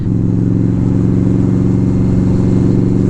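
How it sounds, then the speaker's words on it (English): Steady loud engine drone with a throbbing low rumble throughout, like motorcycles idling or rolling close by, in Munich. "Yeah, motorcycles out today."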